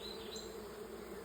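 Honeybees fan their wings inside a hive whose comb is packed with nectar and honey, making a steady, close, continuous buzzing drone with no pauses and no voices.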